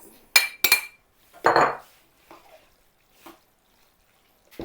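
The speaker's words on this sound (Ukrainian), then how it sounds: "Перемішуємо." A spoon stirs boiled macaroni in a pot, making a few sharp metallic clinks and knocks and one longer scraping, squishy sound, separated by quiet pauses.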